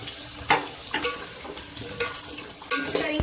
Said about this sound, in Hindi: इसको मिक्स करिए आपने आलू को और सेम को।